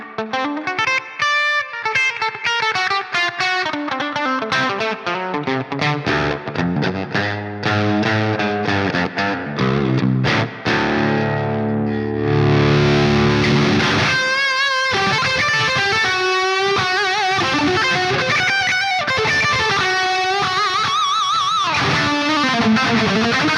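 Electric guitar played through the Bogren Digital BDM amp simulator at full gain with reverb turned fully up, heavily distorted riffs and sustained chords ringing into a long wash of reverb, with no talking.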